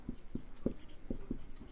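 Pen writing on paper during a maths lesson, a series of short scratchy strokes in an irregular rhythm, close and quiet, with no talk over it.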